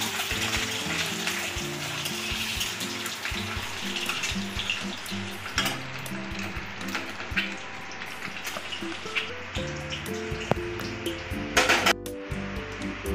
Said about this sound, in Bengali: পেঁয়াজ ভাজা তেলের মধ্যেই ডিমগুলোকে একটু ভেজে নেব।